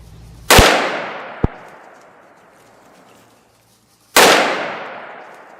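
Two loud pistol shots crack out during a ram hunt, each trailing off in a long rolling echo. They come about four seconds apart, with a faint sharp tick in between.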